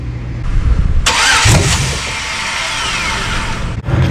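An LS-swapped 1994 OBS Chevrolet truck engine cranks close up without starting; the starter whirs steadily for about three seconds after a brief click, then cuts off.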